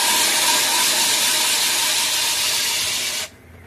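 Consul 12 kg washing machine on its spin cycle, a loud continuous hissing, scraping whir that drops off sharply near the end as the spin cuts out.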